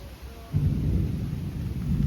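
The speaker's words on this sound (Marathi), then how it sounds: "ढग गरगडतान विजा चमकतान" Thunder from a gathering evening storm with wind and light rain breaks into a deep, sustained rumble after a brief quiet start and keeps rolling to the end.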